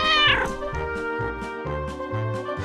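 A cat gives a drawn-out, loud meow close up, with a tonal wail that rises and falls over a few seconds alongside soft musical accompaniment.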